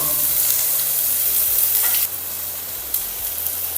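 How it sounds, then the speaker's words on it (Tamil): Onions and garlic sauté for upma in a pan, giving a steady loud sizzle with stirring scrapes throughout and no voices. "லைட்டாக வெங்காயம் வந்து வதங்கின பிறகு நம்ம வந்து பூண்டு போட்டுடலாம்"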